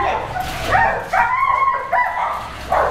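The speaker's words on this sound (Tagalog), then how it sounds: "Yan yung aso." A kennel dog yips and whimpers in short, close bursts, the excited barks coming in quick irregular succession while a person talks nearby.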